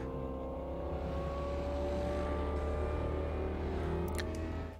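A car engine in the video game Watch Dogs: Legion drones steadily at high revs while accelerating, a constant mechanical roar with a faint whine, with no speech.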